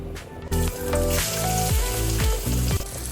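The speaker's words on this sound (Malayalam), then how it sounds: "നമുക്ക് ബാക്കിയുള്ളവർ ഇതേപോലെ ഫ്രൈ ചെയ്തെടുക്കാം" Jackfruit pieces frying in hot oil make a loud continuous crackling sizzle, with a few sliding scrapes and bubbling surges throughout, no one speaking.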